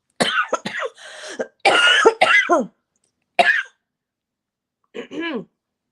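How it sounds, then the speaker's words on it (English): A string of close, loud coughs and throat-clearing bursts comes in quick clusters, then stops, followed by one more short cough after a pause. "I'm going to cough again"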